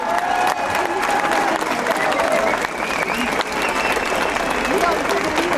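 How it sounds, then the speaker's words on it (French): A large crowd applauds for François Ruffin, candidate for left-wing unity, with dense, loud, continuous clapping and some cheering filling the whole stretch. "Un tonnerre d'applaudissements, s'il vous plaît, pour notre candidat à l'unité de la gauche, François Ruffin"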